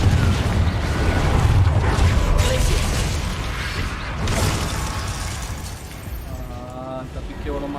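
A Confringo blasting spell from Hogwarts Legacy goes off in a heavy, sustained rumbling burst of magical combat noise. It plays over constant game sound, with a player talking throughout.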